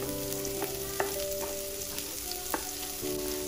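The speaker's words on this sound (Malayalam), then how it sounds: "ഒരു പാൻ എടുത്ത് അതിൽ കുറച്ച് എണ്ണ ഒഴിച്ചു കൊടുത്ത് നമുക്ക് കുറച്ച് സവോള ഒന്നും ആദ്യം വഴറ്റിയെടുക്കാം" Onions sautéing in oil in a pan for a chicken bun filling, a steady close sizzle broken by a few sharp spatula scrapes and taps, with no talking.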